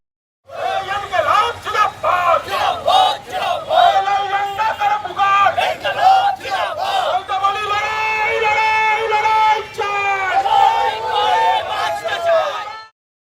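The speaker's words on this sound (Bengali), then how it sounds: "সরকারি বেসরকারি যানবাহন আটকে তুমুল বিক্ষোভ দেখান বন্ধ সমর্থনকারীরা" Protesters in a strike blockade shouting slogans together, blocking government and private vehicles in the Mangalbari area, loud and close with rhythmic bursts of massed voices continuing throughout.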